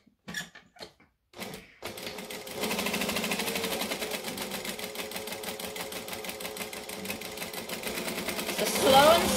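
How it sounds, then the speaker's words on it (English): A sewing machine stitches fabric around a curve while making a backpack, running in a steady close mechanical whir after a few brief clicks, speeding up slightly near the end. "I'm going to put these right sides together as well. And then stitch around the curve."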